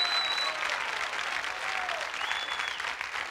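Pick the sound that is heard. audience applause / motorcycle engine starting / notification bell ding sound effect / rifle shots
audience applause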